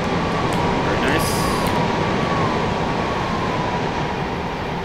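A Southeastern train in dark blue livery rumbles past in Train Simulator 2018, giving a loud, continuous rolling roar with a faint high whine, heard close throughout.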